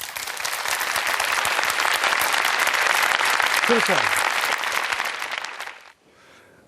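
A Korean talk concert audience breaks into loud, sustained applause that fades out near the end, with a voice speaking briefly over the clapping.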